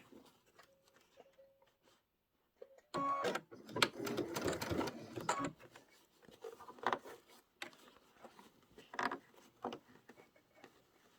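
An embroidery-style sewing machine backstitches in a short burst of fast mechanical chattering, then continues in lighter intermittent stitching ticks, fairly quiet overall.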